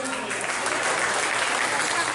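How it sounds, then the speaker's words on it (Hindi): An audience at an Utkal Divas celebration in Tampa, Florida breaks into loud, sustained applause, a thick crowd clapping that stays even and full, with some voices mixed in underneath. "जोरदार ताली एकदम"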